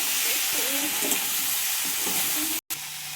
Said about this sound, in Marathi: या बटाट्याचे काप आहेत ना ते टाकते त्यात चांगले मिक्स करून घ्यायचे